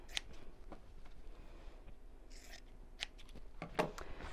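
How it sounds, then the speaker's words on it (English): Scissors trim the selvage off fabric for a sewing machine mat. A few quiet, crisp snips come at uneven intervals over low background hiss, with a clearer cut near the end. "I'm just going to trim off the selvage there."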